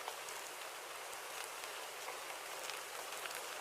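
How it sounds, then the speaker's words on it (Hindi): Steady unseasonal rain in a Hindi cartoon story: a dense, even hiss of rainfall that continues unbroken, with no voices. "अब यह बिन मौसम की बारिश शुरू कर दी?"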